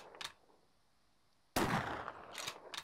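A single hunting-rifle shot fired at a deer in the Deer Hunter video game: a sharp, loud crack after a quiet stretch, with a reverberant tail and a few faint rustles following.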